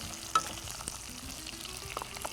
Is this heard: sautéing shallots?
yes